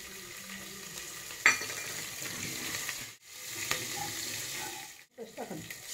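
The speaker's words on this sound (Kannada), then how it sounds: "ಉದ್ದಿನಬೇಳೆ ಕಡಲೆಬೇಳೆ ಸ್ವಲ್ಪ ಫ್ರೈ ಆದರೆ ಸಾಕು" Urad dal and chana dal fry in hot oil with chopped green chillies for masala pundi, a steady close sizzle broken by a few sharp scrapes of stirring.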